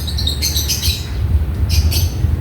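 Birds chirp and squawk in short bursts at dusk over a steady low rumble of background noise, the calls clear and fairly close.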